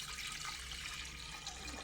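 Water pours into a pressure cooker, a brief close splashing gush at a steady level with no voices.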